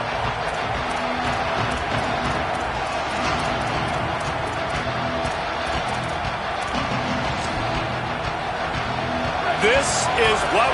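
A stadium crowd in the Madden football video game roars as a dense, steady wash of cheering and noise across the whole stretch, with an announcer talking over it.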